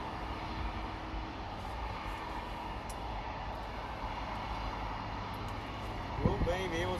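An airliner arriving to land at Los Angeles International Airport, a faint, distant steady engine drone under soft talk, with a brief louder bump near the end.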